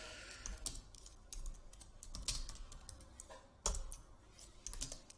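Typing on a computer keyboard, quiet irregular key clicks in quick runs with a few sharper louder strikes, close and alone without talk.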